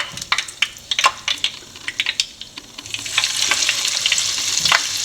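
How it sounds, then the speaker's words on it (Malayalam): Onion vadas fry in hot oil, crackling sharply with scattered pops and a scraping stir, the sizzle swelling into a denser continuous hiss toward the end. "ഇതുപോലെ നമുക്കിനി എല്ലാം വറുത്ത് കോരിയെടുക്കാം."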